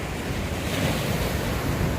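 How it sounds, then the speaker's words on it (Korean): Ocean waves surge and crash near Jukbyeon harbor on a windy day, a continuous broad rush of surf with wind buffeting the microphone, fairly close and steady, no voices. "지금 파도가 장난 아닙니다"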